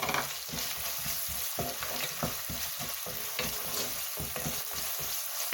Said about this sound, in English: So saute it for a few seconds.